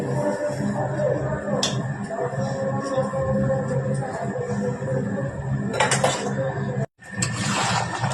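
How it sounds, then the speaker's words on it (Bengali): Dishes being washed by hand in a home kitchen: clinks and clatter of plates and cutlery under running water, with occasional sharper knocks, close and moderately loud. "তো আমি বাসন কটা মেজে নেই।"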